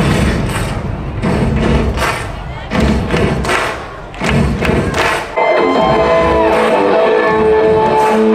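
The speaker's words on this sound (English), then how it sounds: "Here's a final cannon blast before the big show." A cannon fires during a pirate-night show at sea aboard the Disney Wish cruise ship: repeated heavy thuds and booms, loud and close, over a cheering, shouting crowd and music.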